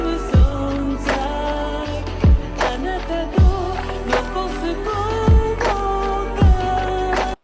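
A lofi anime-style beat with a sidechained kick: deep kick thumps land about once a second while mellow sustained chords duck and swell around each hit, a steady relaxed groove with no voices.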